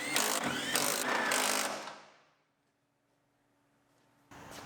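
An electric torque wrench tightens the bolts holding a reinstalled Silverado cab to its brackets and firewall, running in a loud whirring burst for about two seconds, winding down into silence, then starting again at the end.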